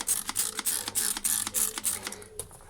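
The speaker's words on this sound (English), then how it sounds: "I'm just going to spray it with my spray gun just to make it a bit wet so that it blends better" A trigger spray gun squirts water onto a painting board for fluid art, giving a quick run of repeated sharp pumping hisses in steady rhythm, close and fairly loud, with no talking.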